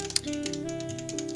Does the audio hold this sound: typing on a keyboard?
yes